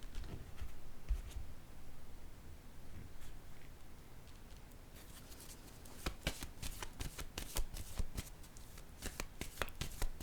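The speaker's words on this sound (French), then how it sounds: "Je vais déposer une autre carte." Cards are shuffled and set down during a tarot reading, a soft steady riffle giving way to a run of crisp, close taps and slaps as each card meets the table.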